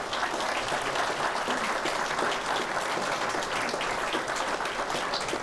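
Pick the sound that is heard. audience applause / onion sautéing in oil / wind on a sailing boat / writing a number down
audience applause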